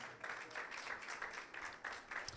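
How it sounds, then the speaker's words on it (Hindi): A church congregation at a Sunday meeting claps together in a steady, rhythmic beat, the massed handclaps sounding fairly soft and slightly distant. "यीशु के लिए जोरदार तालियां बजाएं"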